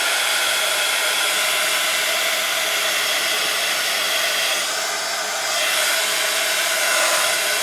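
A hair dryer drying a mixed media craft hat, a loud, steady blowing whir running continuously and alone throughout.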